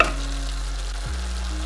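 Chicken pieces sizzling and being stirred into a yogurt and garam masala sauce in a pot for chicken pilau, a steady close frying hiss with no talking.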